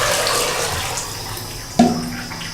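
Water is poured into roasted masala in a cooking pot while making besan khandvi, a gushing stream with a sharp splash partway through, close by and alone.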